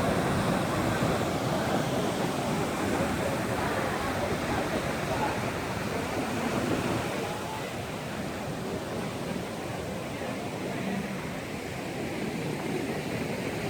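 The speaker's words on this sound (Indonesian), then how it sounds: "ombak lagi banyak" Continuous roaring rush of surf breaking on the coast of Aceh, Indonesia, a loud, steady wash of ocean noise that eases slightly midway but never stops.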